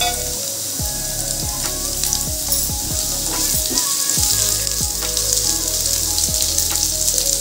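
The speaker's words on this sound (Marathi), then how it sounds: "आता इथं आपलं आता तेल गरम होतंय तोपर्यंत त्याच्यामध्ये मी आता कांदा टाकते।" Chopped onion fries in hot oil for a vegetable dish, giving a loud, close, continuous sizzle with crackling pops, and a handful of utensil clinks and scrapes scattered through it.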